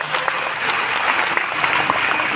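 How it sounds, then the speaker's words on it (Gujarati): A Ram Katha audience bursts into loud, sustained applause, many hands clapping together in a dense, close wash of sound. "સાઉન્ડવાળા ભાઈઓને જોરથી તાળીથી વધાવો"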